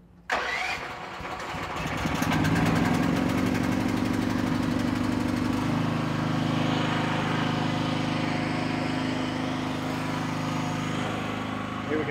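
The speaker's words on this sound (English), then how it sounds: "Let's see if it's got a choke. Lock release. Give it some throttle." Engine at an auction cranking briefly, then catching and settling into a loud steady idle with a mid-pitched drone, rising slightly in revs early before holding steady, close and continuous.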